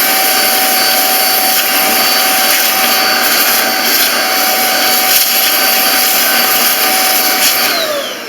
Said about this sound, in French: mettez un petit coup d'aspirateur sur les ventilateurs.